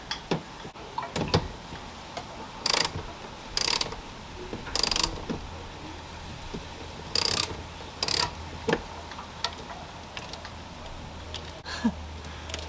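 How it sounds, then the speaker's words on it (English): A bolt is undone with a ratchet on a Toyota 79 Series, giving repeated bursts of clicking pawl in short runs with pauses between, close and fairly clear against a quiet background. "So I'm just going to quickly undo this bolt."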